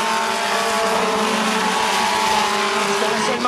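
Stock cars racing flat out on an oval track at Drummond, engines roaring loud and continuous as a pack passes close by, with tires hissing over the steady wall of motor noise.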